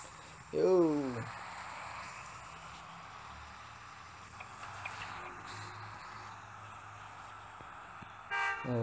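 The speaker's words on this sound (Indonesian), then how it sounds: "khas klakson Hino ya." A Hino bus horn in Bus Simulator Indonesia gives one short honk near the start, then engine drone continues and a faint second honk comes at the end.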